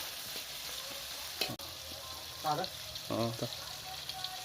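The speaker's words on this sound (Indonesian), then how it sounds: "Kita aduk rata ya, kita aduk rata." Indomie instant noodles stirred in a pan with Aceh-style seasoning, cooked outdoors at a hunting spot: a steady sizzle runs throughout, broken by a few scraping stirs and short clatters, with a sharp knock midway.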